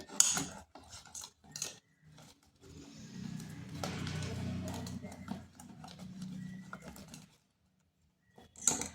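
Cake batter being beaten by hand in a bowl for a simple homemade cake, a steady scraping, clattering whisk sound with a sustained stretch in the middle and brief sharp knocks at the start and end, fairly faint.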